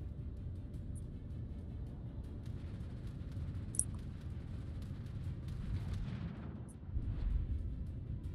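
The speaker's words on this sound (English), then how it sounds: "Somebody's shooting at me." Naval gunfire in World of Warships from a German Tier 8 Hipper heavy cruiser at sea: a steady low rumble of distant shelling and engine drone, swelling into a louder, heavier burst of booms near the end.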